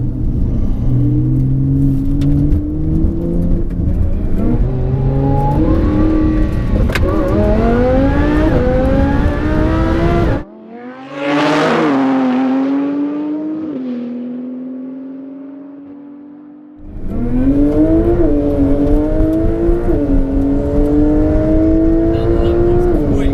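Supercharged 780 bhp Lamborghini Huracan and 800 bhp Porsche 911 Turbo S in a roll race, engines droning loud and rising through gears with a break, then a single car's strained rising howl fading, then both roaring again.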